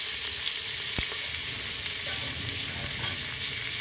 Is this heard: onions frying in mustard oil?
yes